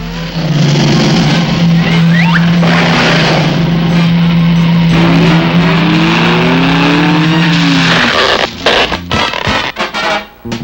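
A cartoon car from a Dr. Seuss Green Eggs and Ham animation drives along with a loud, steady engine drone and rising and falling revving tones, then breaks off into a few clattering bumps near the end.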